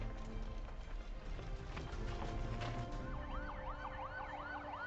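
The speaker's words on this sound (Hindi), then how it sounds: "सभी पुलिस कारों को अभी तुरंत बत्ती और सायरन बंद करो।" Police car sirens wailing with rising and falling sweeps, entering after a few seconds over a busy layer of engine and street noise, close and fairly loud.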